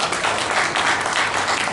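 An audience at an award ceremony for the auto parts manufacturing industry claps in a brief, dense round of applause, loud and continuous throughout.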